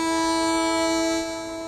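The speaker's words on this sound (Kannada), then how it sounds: "ಟ್ರೈನ್ ಹೊರಡ್ತಾ ಇದೆ." A departing train sounds a loud, sustained, multi-tone horn close by that drops in volume near the end.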